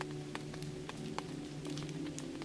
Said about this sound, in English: the rain falls harder, increasing its tempo and force before the deluge arrives